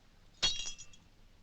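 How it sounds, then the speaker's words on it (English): A drinking glass breaks in one sharp, crisp shatter with a short tinkle of falling pieces, set against an otherwise quiet background. "Does it break because it is faulty or because it is glass?"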